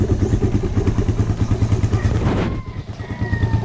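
A Rusi Raider 150 motorcycle engine on a cold start, up on its double stand, runs with a steady fast-pulsing idle thump at close range, then eases to a quieter, smoother idle near the end.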